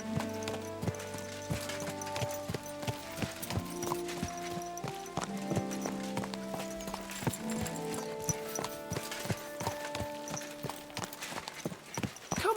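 Steady clip-clop of a horse's hooves on a ride in Kingdom Come Deliverance 2, an even rhythmic trot at close range beneath a soft tonal music bed.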